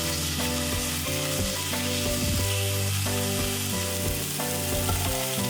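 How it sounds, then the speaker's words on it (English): Meat is stir-fried in a pan for chikuzen-ni, with a loud, dense, continuous sizzle and occasional stirring scrapes. A melodic tune plays over the frying. "And dump the meat in. I'll stir it until the color changes."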